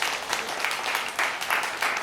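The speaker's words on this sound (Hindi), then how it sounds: "भाई ताली जोरदार बजा।" An audience at a Hindi comedy poetry recitation claps loudly and continuously, a lively burst of close applause without any speech.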